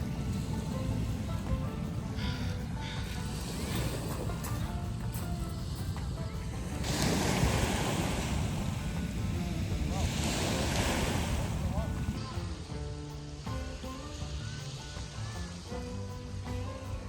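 Ocean waves roll onto the shore at Carkeek Park Beach in Seattle, a steady loud wash of surf swelling midway, mixed with gusty wind noise on the microphone and distant voices.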